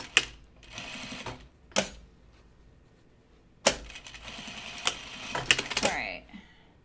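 Sewing machine stitching down a welt on a blazer, short bursts of rapid mechanical running separated by pauses, close and clear, with a voice talking faintly in the background.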